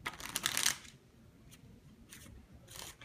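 A deck of playing cards is riffle-shuffled on a table, a crisp fluttering burst up close followed by fainter, shorter riffles and quiet handling.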